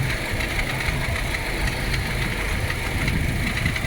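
Side window glass of a car rattling and ticking while the engine idles, with the air conditioning being checked for weak cooling; a steady close engine drone with a dense buzzing vibration layered throughout.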